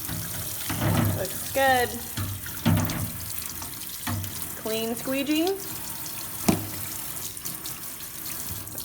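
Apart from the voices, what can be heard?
tap water running in sink, rinsing shaving cream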